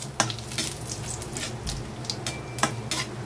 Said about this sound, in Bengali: এখন ফোড়নটাকে আমি 1 থেকে 2 সেকেন্ড ভেজে নেব।